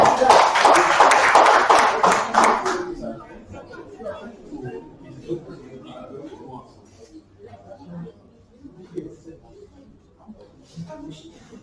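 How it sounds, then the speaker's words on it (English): A burst of clapping from a group lasts a couple of seconds and quickly fades into scattered murmuring and talk in a room. "Let's give one round of applause."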